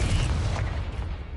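A Confringo fire spell bursts in Hogwarts Legacy with a single low, rumbling boom that fills the clip and slowly fades, loud and close, with no talk over it.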